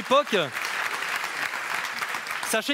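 Audience applause rings out during a carnival quiz show, a brief burst of dense clapping framed by a presenter's voice speaking just before and just after.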